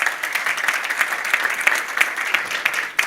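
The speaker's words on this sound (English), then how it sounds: "Real quick, can you give you a round of applause?" Loud, sustained audience applause after a marketing conference talk, many people clapping together in a dense, continuous roll that holds steady and dips slightly near the end.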